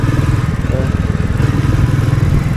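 A Royal Enfield Classic 350 motorcycle engine thumping steadily and loud at close range, a continuous low rhythmic pulse with no pauses.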